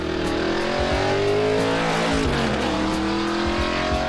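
A 1969 Bud Moore Boss Mustang race car driving hard, its loud V8 roar rising and falling through repeated gear changes and accelerations, close and continuous throughout.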